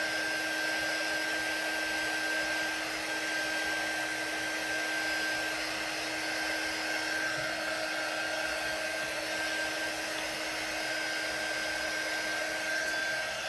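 A handheld dryer blows steadily on a craft project, an autumn scarecrow with a rustic fence, giving a continuous, even, close whir with no pauses.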